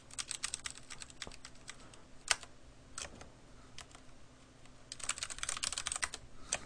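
Rapid typing on a computer keyboard during a Korean game session, with bursts of close, sharp key clicks, brief pauses, then a denser flurry of keystrokes near the end.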